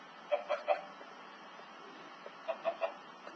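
Soft clucking from a few chickens in Minecraft in two short clusters, faint against a low steady background hiss.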